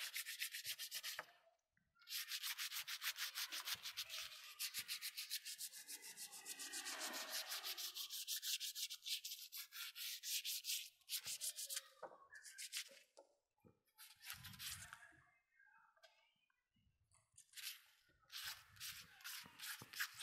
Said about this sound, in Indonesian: Kita amplas dulu bagian outsole-nya